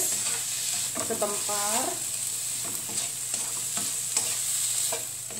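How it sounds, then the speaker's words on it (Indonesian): Petai stink beans being stir-fried in a pan for a bean sprout dish: a steady sizzle runs under repeated scraping and stirring strokes, with a brief word spoken partway through. "Saya mau kasih juga petai ya, langsung aja kita tumis"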